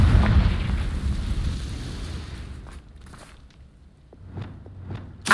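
A Confringo blast spell in Hogwarts Legacy, loud and rumbling at the start, then trailing off into a quieter tail with a few light pops and crackles.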